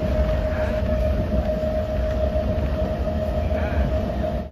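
A steady passenger train rumble with a sustained high hum runs throughout, loud and close, as from inside a moving carriage in India.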